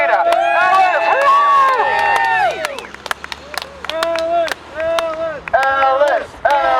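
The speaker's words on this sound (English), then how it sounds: "Give a round of applause for Alice Arena." A crowd at an outdoor protest at the Fore River Bridge claps and cheers, with loud whoops and shouts over scattered applause, fairly close and lively.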